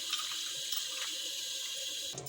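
Tap water runs steadily into a sink as prawns are washed with salt, a close, even splashing hiss that cuts off abruptly near the end.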